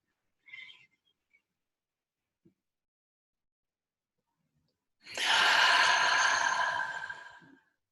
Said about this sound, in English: I'll have you breathe in and hold the breath and then exhale it out